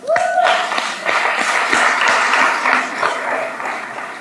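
Conference audience applauding an organizing foundation at a Papiamentu language event: sustained clapping from a crowd throughout, fairly loud and steady, with a brief voice or tone at the very start.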